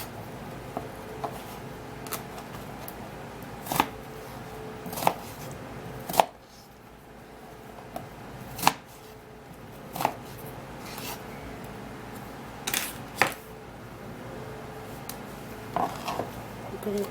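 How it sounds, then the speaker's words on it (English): A knife chops cucumber into cubes on a board, with sparse, crisp, irregular knocks about every second against a quiet room. "So for the cucumber, we're going to be needing just a little cut of that, and we're going to be cutting it in cubes."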